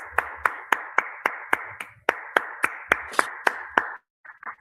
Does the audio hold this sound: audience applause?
yes